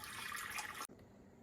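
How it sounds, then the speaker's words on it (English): Water pours into a bowl of flour and salt for sourdough bread, a steady close splashing stream that stops abruptly partway through, leaving quiet room tone. "now I'm going to put my water in the bowl"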